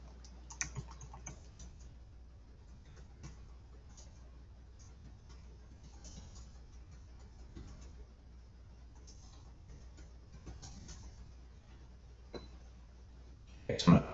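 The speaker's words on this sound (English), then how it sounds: "Then I just type in my regular note." Light keyboard typing in a note-taking app, a run of soft, quiet key clicks over low background hum, with a louder thump near the end.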